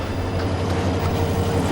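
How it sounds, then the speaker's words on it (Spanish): A train rolling along rails in Africa gives a steady, continuous low rumble with faint rhythmic rail clatter, close and loud throughout, with no voices. "incluso este tren y los raíles sobre los que se desliza"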